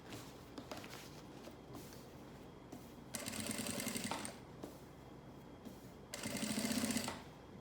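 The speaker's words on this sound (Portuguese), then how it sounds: "Aí eu tô passando a costura de pesponto na parte de cima deste bolso." A sewing machine topstitches a pocket in two loud, sustained bursts of rapid mechanical chatter, each lasting about a second, separated by quieter handling and soft clicks close by.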